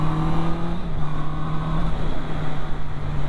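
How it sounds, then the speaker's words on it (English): A Honda CB650R motorcycle's engine hums steadily and loudly with a sustained tone and slight pitch shifts, heard up close while riding on the Isle of Man. "First time I've revved it up."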